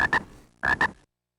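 Cartoon frog croaking in a children's alphabet program: two pairs of short, bright ribbit croaks separated by a brief pause, clear and close with nothing else.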